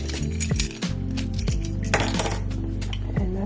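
Keys clink and jingle in a few short metallic bursts, close by, as they are handled and dropped among items in a small bucket bag, with no one talking.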